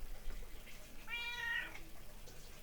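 A single drawn-out cat meow indoors, moderately close and clear over a quiet steady background, lasting about half a second.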